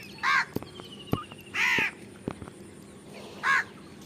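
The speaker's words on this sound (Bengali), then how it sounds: "দুটো কাক বসে রয়েছে, কাক কাক করতেছে।" Two crows perched near free-ranging turkeys, hens and ducks on a farm give three loud, harsh caws spaced about a second apart, each standing alone over a quiet outdoor background with a few faint clicks.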